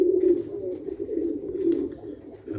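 Pigeons coo steadily in a rooftop terrace loft, their low throaty calls forming a continuous near murmur with overlapping voices and no speech.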